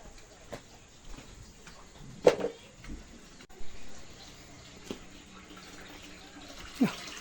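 Tap water runs into a container in a village yard, a faint steady flow broken by a few sharp knocks and splashes.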